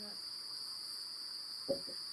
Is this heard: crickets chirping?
yes